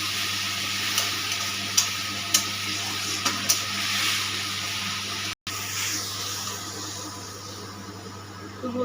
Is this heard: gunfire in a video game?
no